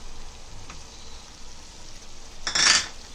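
Curd goes into gravy frying in a pan. A soft sizzle runs under brief clinks of a utensil, then a sharp hiss flares as the curd hits the hot oil, close and alone.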